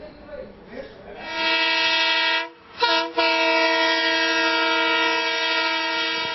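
An overcrowded passenger train on a rail line with its horn blaring, a loud, steady, multi-tone blast held for several seconds with a short break, following the rumble of the moving train.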